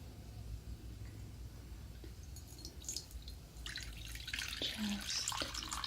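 Water trickles and splashes from a tap onto a bar of soap, faint at first and then rising into a brighter, closer running spatter over a low room hum.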